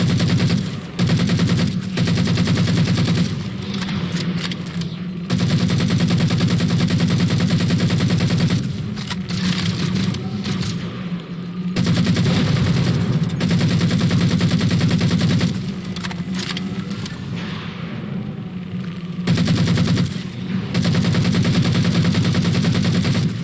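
Sustained automatic weapon fire in Halo: The Master Chief Collection, loud continuous bursts broken by short pauses, a steady rattling roar with little else heard.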